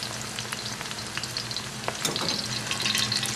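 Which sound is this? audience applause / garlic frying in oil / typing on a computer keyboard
garlic frying in oil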